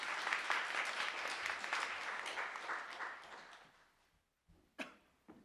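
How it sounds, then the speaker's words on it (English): Conference audience at a regenerative organic agriculture keynote giving applause, a full burst of many hands clapping that thins and fades out, followed by a couple of isolated knocks or handling sounds. "we should just give a small applause to everybody for all the work you've done"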